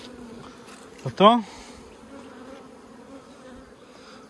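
Honey bees drone steadily at an open hive during May colony splits, a low continuous buzz that fills the background while a voice briefly speaks over it.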